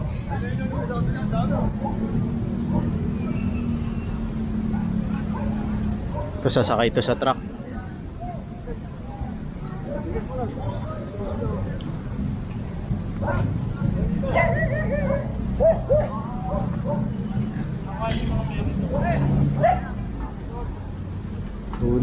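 A stray dog yips and whimpers as it is caught during a street clearing operation, amid outdoor street noise and passing traffic, with people talking throughout.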